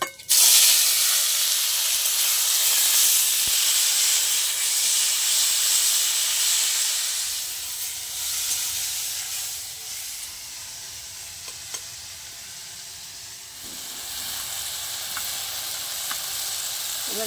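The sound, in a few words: spices frying in oil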